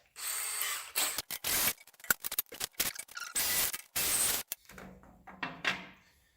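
Power drill enlarging a mounting hole for a WeldTec mini fender on a Chevrolet Express Quigley van conversion, loud close whining bursts broken by short pauses and clunks, with a quieter stretch at the end.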